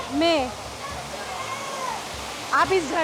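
Waterfall at a Ganga ghat near the Neelkanth Mahadev temple, a steady broadband rush of falling water running throughout, with someone talking over it and another voice near the end.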